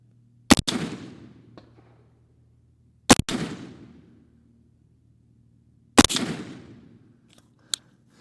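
Three sharp rifle shots ring out while zeroing, a couple of seconds apart, each crack followed by a decaying echo, loud and close with no talk in between.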